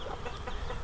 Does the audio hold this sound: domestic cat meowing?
no